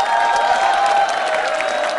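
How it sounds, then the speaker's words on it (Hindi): Steady audience applause at a Hindi-language quiz show, a dense continuous patter of many hands clapping at even loudness throughout, with a faint crowd murmur beneath. "तालियां जोरों से बजाइए"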